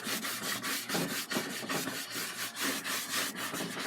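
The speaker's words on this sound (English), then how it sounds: "We're just kind of rubbing some of this color around." A paintbrush rubbing oil paint around on a painting makes a continuous rhythmic scrubbing, steady back-and-forth strokes close and moderately loud with no voice over them.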